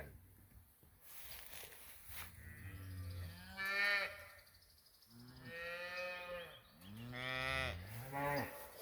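South Poll heifers and a South Poll bull moo on pasture, several long, loud calls in succession from nearby cattle, with quieter lowing between them.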